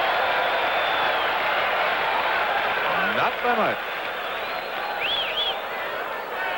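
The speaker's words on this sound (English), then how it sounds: "We're not going to see it, but we'll get from the crowd reaction." Stadium crowd at a 1978 CFL football game between the Ottawa Rough Riders and BC Lions, a steady roar of distant spectators reacting to a first down, with a commentator talking over it.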